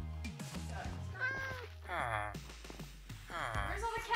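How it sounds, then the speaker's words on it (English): A cat meows repeatedly in the video game Minecraft, several drawn-out tonal mews spaced through the scene, mixed with a person talking over them and light game sounds. "Come here, cat."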